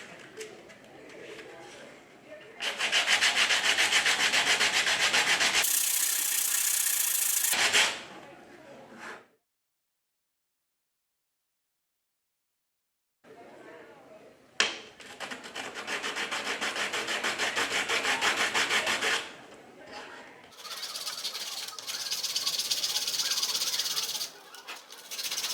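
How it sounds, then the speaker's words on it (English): Hand sanding an angled chamfer along the edge of a wooden chair piece, with sandpaper rubbing in long bursts. Two loud close passes are split by a few seconds of silence. A faint bird coos in the background. "Sand till your line comes, your chamfer, your angle, comes just touching both of those lines"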